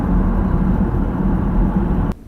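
Steady low road rumble and tyre drone inside a moving 2016 BMW 1 Series, loud and even, cutting off abruptly near the end.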